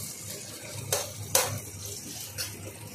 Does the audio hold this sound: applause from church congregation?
no